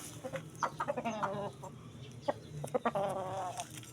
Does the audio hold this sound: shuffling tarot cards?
no